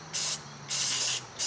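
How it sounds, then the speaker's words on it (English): Aerosol can of Surface Shield or Fluid Film rust protectant spraying down parts during a 2011 Chevrolet Tahoe fuel pump replacement: three close, loud hissing bursts, the middle one longest, with no talk. "What I'm going to do is I'm going to spray this down"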